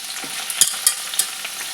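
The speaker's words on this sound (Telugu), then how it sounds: "ఉప్పు వేసి కడిగి పెట్టుకున్న కాకరకాయ ముక్కలను నూనెలో వేసి వేగనివ్వాలి" Salted, washed bitter gourd pieces fry in a little oil in a pan, making a steady close sizzle with a few crackles and stirring scrapes, with no voices.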